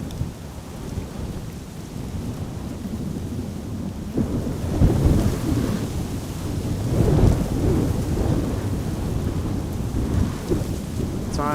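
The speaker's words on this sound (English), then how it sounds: "And rain is starting to fall over here." Steady rain patters outdoors at Amsterdam Schiphol Airport during a stormy day, while low rumbling thunder rolls beneath it, growing heavier midway and continuing without pause; no talking.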